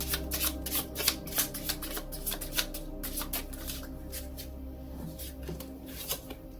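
Tarot cards shuffled by hand at close range, a rapid series of crisp riffling flutters and soft slaps repeating steadily over a low background hum, with no talking.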